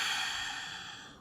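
A single long exhale during a Pilates exercise, a soft airy breath out, close and quiet, fading slowly over about a second.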